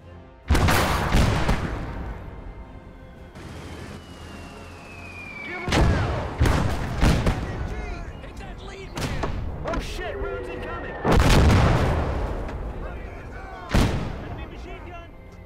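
Tank cannon fire from a Panzer IIIF in a World War II combat video game, several loud booming blasts spread over the stretch with rumbling tails and scattered gunfire, mixed with voices.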